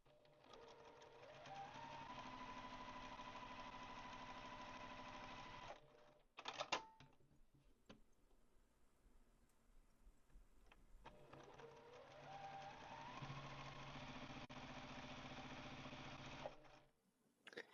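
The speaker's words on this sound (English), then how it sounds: "I'm going to head and sew two half square triangles extra." A domestic sewing machine stitches quilt pieces, extra half square triangles, in two steady motorized runs of several seconds each, with a brief pause and handling clatter between them.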